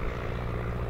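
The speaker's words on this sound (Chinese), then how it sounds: "鬼子的飞机来了，看来" Enemy aircraft engines produce a brief, continuous low drone, as in a wartime drama scene. The roar is steady and fairly loud, with no voices.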